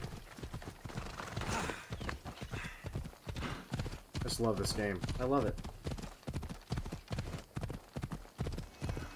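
Rhythmic hoofbeats of a galloping horse in Assassin's Creed Odyssey clatter steadily throughout, with a brief horse whinny in the middle and someone talking over it.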